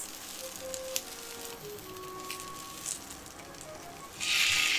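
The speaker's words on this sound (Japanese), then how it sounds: "キャベツを炒めます。 少ししんなりするまで炒めます。" Cabbage stir-frying in a pan for a home-style curry pork-and-potato dish, a steady soft sizzle with faint scrapes, swelling into a louder hiss near the end; no voices.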